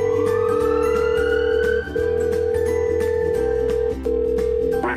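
A phone call to an emergency ambulance number gives a steady electronic call tone that holds without pause, with a rising tone sweeping beneath it and two brief dips in level.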